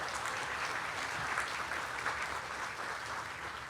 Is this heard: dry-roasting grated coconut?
no